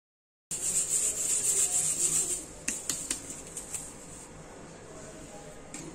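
Rice flour dough for rice papad is mixed by hand with a strained spice paste, giving a close, steady rubbing and scraping that eases off midway into softer intermittent squishing and stirring; no voices.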